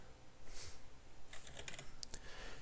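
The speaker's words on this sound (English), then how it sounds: "just type out your delivery address again and your return" Keys clatter on a computer keyboard while a delivery and return address is typed out for printing an envelope, in a short burst of close, light clicks.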